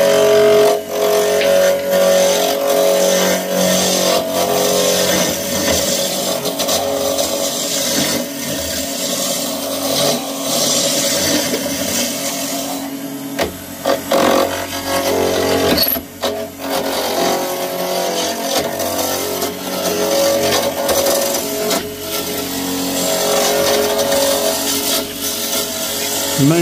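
A wood lathe spins Portuguese olive wood at about 3000 rpm and a tool rounds the blank, giving a loud, steady whir and scraping that carries all the way through, with a short dip partway.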